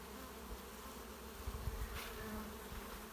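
A faint, steady buzz of honeybees from a large colony hums in the background, quiet and continuous, with a slightly louder swell midway.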